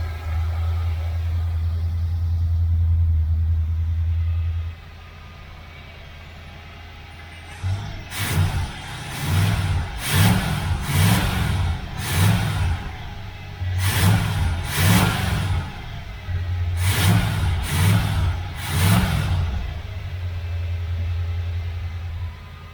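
Classic car engine, a 1972 Nova or 1969 model, idling steadily, then after a pause revved in short repeated bursts, loud and close, with several quick throttle blips in clusters.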